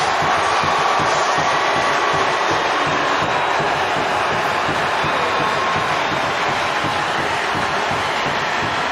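Sellout stadium crowd at a college football bowl game in Nashville roars steadily as the Purdue Boilermakers take the field, a dense, continuous wash of cheering throughout.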